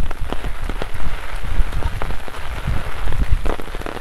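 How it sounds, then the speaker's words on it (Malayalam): Rain falling steadily in a misty forest on the Kudajadri trek, a dense loud patter of drops on leaves and ground with heavier splats scattered throughout, no voices. "എന്തായാലും മഴ പെയ്യുന്നു, മഞ്ഞ്, മഴയും മഞ്ഞും, തണുപ്പ്."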